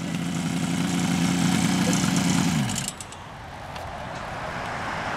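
A Kawasaki 500 H1 or Yamaha RD 400 two-stroke motorcycle arrives close by with a loud steady engine drone that winds down and cuts off, leaving quiet background.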